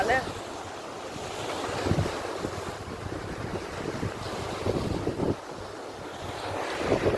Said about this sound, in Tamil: அலை வந்து பெருசாக கிடக்குற பாருங்க